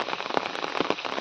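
Rain falling on a flooded rice paddy field, a steady close patter of drops with a few louder splashes, no voices.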